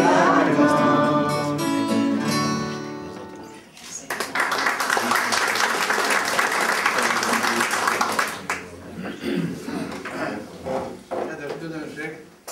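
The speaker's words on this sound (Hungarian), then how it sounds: "a taps egyaránt szólt az előadónak és a kórusnak is" A Hungarian book launch audience applauds a performer and choir, with sustained clapping swelling after a sung passage ends, running several seconds before tapering off into scattered claps and room sound.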